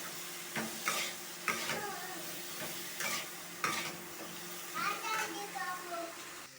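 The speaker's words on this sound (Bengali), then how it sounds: "হলুদটা দিয়ে নাড়িয়ে চাড়িয়ে দিতে হবে।" Egg and potato curry frying in a pan as turmeric is stirred in, with a spoon scraping in repeated strokes over a steady sizzle, and children's voices faintly in the background.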